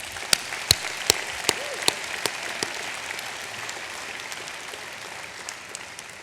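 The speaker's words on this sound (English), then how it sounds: "let's just applaud our family and friends" Graduates and guests at a law school commencement ceremony applaud their family and friends, a broad, even wash of clapping with a few sharp, close individual claps standing out early on.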